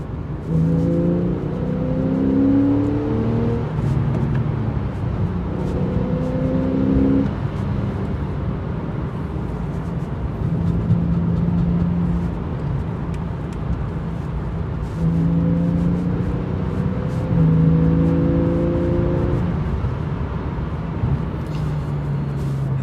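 Porsche 911 Carrera S of the 991.1 generation accelerating through the gears, its engine pitch climbing in repeated surges with brief drops at each shift, loud and steady from inside the cabin.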